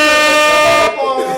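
A loud air horn blares in one sustained, brassy blast lasting almost a second, then cuts off into a short, quieter tail.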